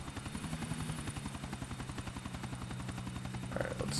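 Helicopter in the GTA IV video game, its rotor chopping in a rapid, steady pulse with an even engine drone, fairly quiet and unbroken.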